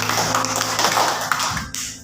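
A small classroom group claps for a team of students, a brief patter of scattered, uneven hand claps at moderate distance that trails off within about two seconds.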